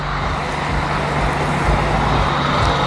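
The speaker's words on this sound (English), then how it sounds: "More trucks coming" Trucks roll past at a truck show in Los Angeles, a steady, continuous road rumble with engine drone close by, no voices over it.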